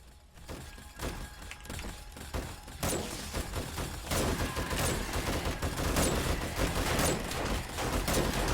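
Dense rocket blasts and rapid turret gunfire tear into a zombie horde in 7 Days to Die, a loud continuous barrage of overlapping bursts and explosions that builds and stays heavy throughout.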